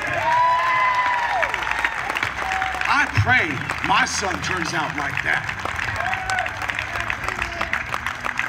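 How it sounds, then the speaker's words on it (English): A crowd at a Second Amendment rally in Tallahassee claps and cheers for a boy, loud applause rolling under a voice speaking close by, with whoops and other voices mixed in. "I want to give you a round of fucking applause"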